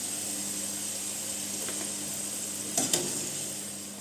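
Pork meat and its marinade frying in a pan for Carne de Porco à Alentejana, a steady close sizzle with a couple of brief clinks or stirring knocks near the end.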